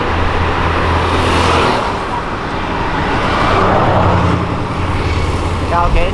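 Ford Galaxy car driving on Avenida Europa, its engine note rising and falling through a downshift amid steady traffic noise, with people talking over it.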